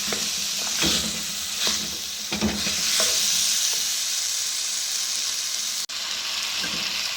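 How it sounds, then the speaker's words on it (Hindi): Mixed vegetables sautéed in a pan, a steady close sizzle with scraping stirs of a spoon against the metal, no voices present. "अब थोड़ा सा हम 2-3 मिनट इसमें भूनेंगे।"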